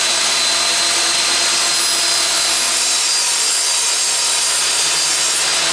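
A table saw rips a jagged edge off a piece of scrap wood, a loud and steady broadband whine of blade through timber that runs unbroken and close by.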